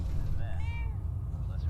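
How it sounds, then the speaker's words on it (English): A cat meows once in Fallout 4, a clear rising-and-falling mewl over a low rumbling background. "Oh, the kitty just meowed!"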